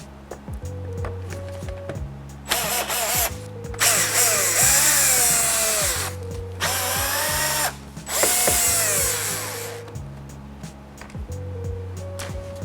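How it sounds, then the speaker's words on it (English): Power drill backing out four Phillips screws from Toyota Tundra interior lights, several whirring bursts of the motor separated by pauses, close and loud, with soft background music underneath. "we're just going to have to remove these 4 Phillips screws, and we're going to be doing so with a power drill"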